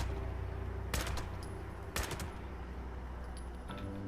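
A machine gun turret on a rooftop fires in Fallout 76, heard as two short, sharp bursts about a second apart over a constant low game hum.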